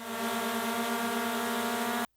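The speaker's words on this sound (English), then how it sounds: "This is the sound of a normal propeller." A loud, steady buzzing whine of a spinning propeller, with a strong harmonic hum holding constant for two seconds before cutting off sharply.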